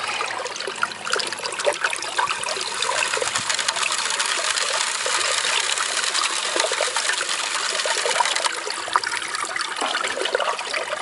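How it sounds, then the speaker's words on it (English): Sand and water run through a gold prospecting sluice, making a continuous close trickling, gushing flow of water with faint gritty patter and no talk. "Feed some into the sluice, see what it looks like."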